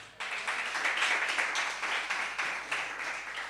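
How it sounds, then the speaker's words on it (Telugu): A church congregation applauding during a Sunday sermon, a dense, steady round of clapping from many hands at moderate distance, pulsing slightly and fading toward the end. "చప్పట్లు కొట్టండి."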